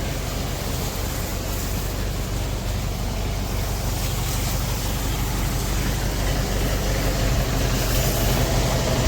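A water pump motor runs while washing farm equipment such as a rotavator, giving a steady, loud, unbroken mechanical drone with rushing water.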